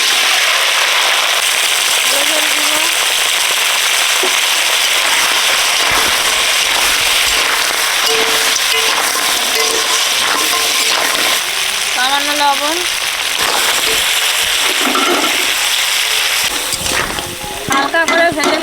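Crab dropped into hot oil for crab tel jhal sizzles and crackles in a loud, steady frying hiss with popping spatters throughout, while a person talks over it.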